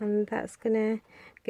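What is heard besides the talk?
No everyday noises stand out.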